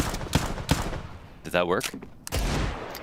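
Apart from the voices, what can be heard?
AK rifle shots through wall in Counter-Strike video game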